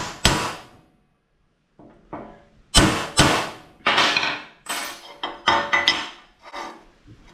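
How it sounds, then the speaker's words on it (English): A spring punch snaps against a workpiece while center points are marked for drilling, a series of sharp, close, loud clicks and knocks, some single and some in quick pairs, separated by brief pauses. "So I'm going to start with this spring punch."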